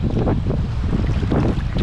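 Steady strong wind, seemingly from the northwest, roars continuously at sea on a sea trout fishing outing, buffeting the microphone over a broad wash of water with no talking.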